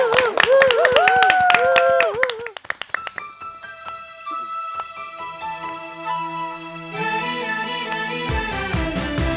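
An audience on a Korean TV morning show claps, with bursts of hand claps mixed with a voice speaking at first, then giving way to the opening music of a song.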